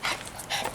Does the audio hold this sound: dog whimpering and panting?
yes